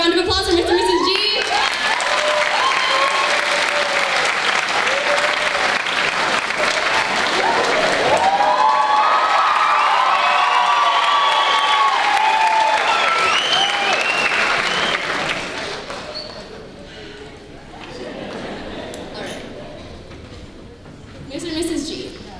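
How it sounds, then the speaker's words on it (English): A large audience at a high school band spring concert claps and cheers loudly for a long stretch, the applause tapering off near the end with a short renewed burst. "Another round of applause for Mr."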